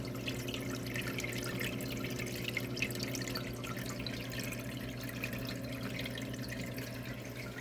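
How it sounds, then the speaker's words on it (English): Water trickling and dripping steadily into the individual net cups of a newly set up hydroponic system, a continuous close splashing flow with a low hum beneath it. "each one of these individual cups, if you can see the water flowing in there"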